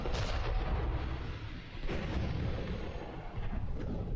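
A sticky grenade blast in Mass Effect, a loud booming explosion with rumbling low-end tail, sustained and dense, with no speech.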